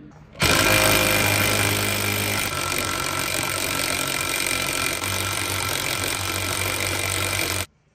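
An impact wrench hammers loudly and steadily for about seven seconds, close up, while tightening the nuts on a Mopar 8 3/4 rear axle center section. No one speaks over it.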